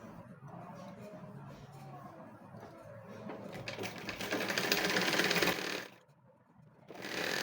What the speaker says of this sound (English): Then you start to sew.